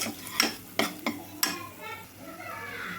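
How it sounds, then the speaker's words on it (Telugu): Chicken pieces for a Rayalaseema country-chicken curry fry in oil in a pan, with a steady sizzle broken by several sharp clatters of a spoon stirring against the pan. "ఇంకొక one minute or two minutes అయితే వేయించుకుందామండి"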